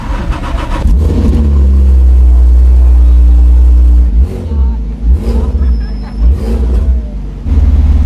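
Fenyr Supersport with a RUF-tuned Porsche engine revving hard on a London street, a loud, sustained engine roar that swells and dips in several pulses, heard from inside the car with low voices underneath.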